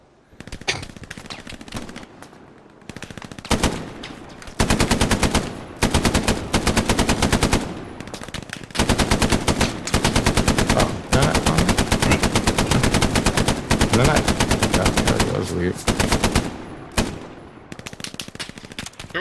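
Sustained bursts of rapid machine gun fire in the World War II shooter Hell Let Loose, loud and close, repeating in long strings with short pauses between them.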